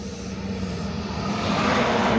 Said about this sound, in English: Here goes the wrecker truck.